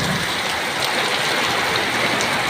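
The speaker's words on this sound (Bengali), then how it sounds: "তুমুল বৃষ্টি হচ্ছে।" Heavy rain pours steadily in a dense, even hiss of drops striking surfaces, loud and close with no pauses and no voices.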